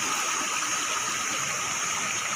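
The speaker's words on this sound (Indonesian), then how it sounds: "Tempat air terjun" The Umbol-umbol waterfall pours with a steady, dense roar of rushing water, constant and full throughout, with no voices or other sounds breaking through.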